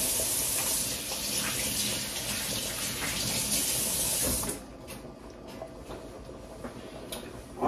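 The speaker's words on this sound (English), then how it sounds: "I'm going to wash my hands off" A tap runs steadily as hands are washed in a kitchen sink, a loud close hiss of water for about four and a half seconds, then shuts off, leaving faint clinks and small handling noises.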